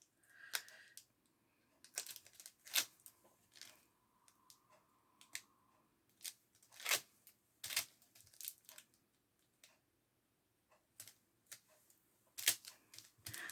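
Backing is peeled off double-sided tape on a handmade Christmas shaker card: a quiet indoor sequence of brief, sharp crackles and clicks spaced irregularly, with near silence between them.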